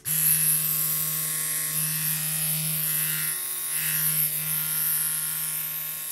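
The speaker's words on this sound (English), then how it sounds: "And that's the sound without cartridge in." Ink Claw Challenger tattoo machine running without a cartridge fitted, a steady close-up electric buzz with a constant motor hum that wavers slightly in level throughout, no speech.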